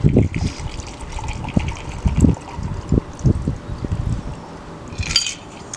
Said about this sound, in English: Okay, so I have a glass with ice. I'm going to pour this in.